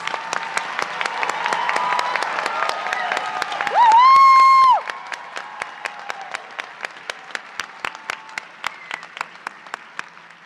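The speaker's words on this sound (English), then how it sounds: "One more round of applause." Audience applause at a nursing school hooding and pinning ceremony in an auditorium: dense clapping that thins into sparse, distinct individual claps, with a brief sustained tone sounding midway.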